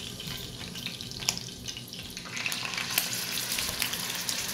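Meat frying in a pan for a home pot roast, a steady close sizzle with crackling and bubbling that grows louder about halfway through, no talking.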